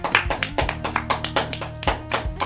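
A few people clap in quick, uneven rhythm, close and fairly loud, with sharp repeated hand claps over a low steady hum in the background.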